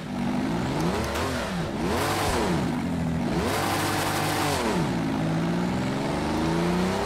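A car engine in the racing video game Project Cars 2 revs up and down repeatedly, with a flat, raspy tone like a souped-up VW. The pitch rises and falls in several swells over a steady idle, close and alone.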